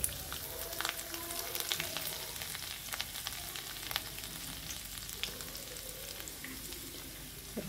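Garlic cloves frying in hot oil with asafoetida and bay leaves, cooking for a besan lauki sabzi: a steady close sizzle that runs the whole time, with faint stirring clinks and crackles and no talking.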